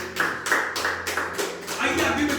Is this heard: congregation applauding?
yes